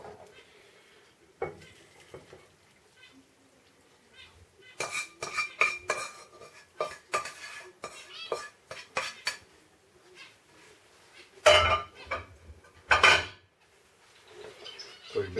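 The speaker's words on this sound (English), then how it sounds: "So let's swap the bowl so you can see." Bowls and dishes are swapped in a kitchen while cooking a vegetarian shepherd's pie, with bursts of clattering cutlery and knocking crockery between quieter gaps, close and loud.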